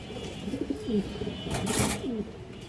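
A male high-flyer pigeon gives a run of close, low, rolling coos, repeating in short phrases over a quiet background with a brief rustle midway.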